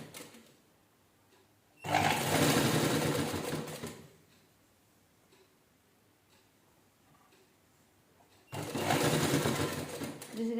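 A sewing machine stitches petal pieces of old T-shirt fabric for a doormat, running in two loud bursts of rapid mechanical whirring with a quiet pause between them.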